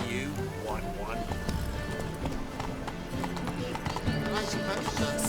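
Hooves of the horse Roach drum in a rapid galloping clip-clop in The Witcher 3, steady and moderately close under game music and a voice.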